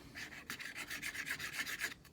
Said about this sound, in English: I need to get the good old sander onto it